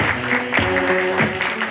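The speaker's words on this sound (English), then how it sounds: "Let's give him a round of applause for being here." Applause from a business-lunch audience welcoming a Seattle mayoral candidate, a brief patter of claps mixed with murmuring voices in a room.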